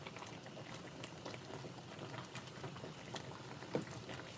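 Matoke green bananas simmering in a small pot, a faint, steady bubbling and patter of boiling liquid with one brief knock near the end.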